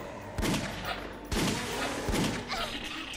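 Three heavy magnum gunshots in the Wii game Resident Evil: The Umbrella Chronicles boom out under a constant background rumble, spaced roughly a second apart, each with a deep thudding punch.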